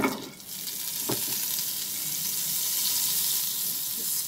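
Butter melting in a heated pan gives a steady, fairly loud frying sizzle with a hiss that holds throughout and a light clack near the start. No one speaks.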